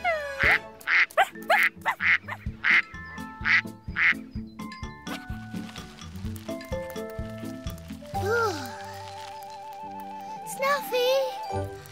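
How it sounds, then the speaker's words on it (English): Cartoon ducks quack in a rapid rhythmic series for the first few seconds, followed by bouncy musical score with chimes and whistle-like slides. "Bye-bye, ducks."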